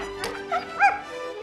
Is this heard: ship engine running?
no